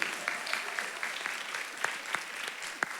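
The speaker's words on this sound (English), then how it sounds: "Go ahead and give her a clap." An audience claps at a public meeting about flood victims, a faint, fairly sparse applause with separate sharp claps spread evenly across the span.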